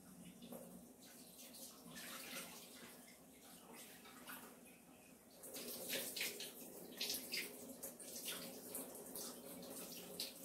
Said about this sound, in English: I'm going to drain off the water off the saltfish.